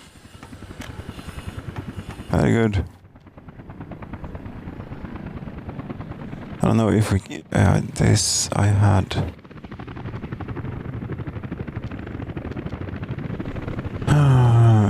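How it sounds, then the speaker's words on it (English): Helicopters carrying concrete in Workers & Resources: Soviet Republic give a steady, loud rotor-and-engine drone through most of the clip, while someone talks over it in several bursts. "Helicopters are coming with more concrete."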